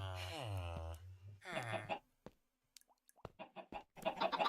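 Chicken clucking in the Minecraft Skyblock video game, a few short pitched clucks that break into a rapid choppy run, close and fairly loud, with a voice imitating the clucks at the start.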